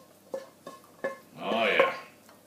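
Beans are spooned onto a plate with three light clinks of a utensil against the dish, then a softer scraping slide as they are spread, close and quiet.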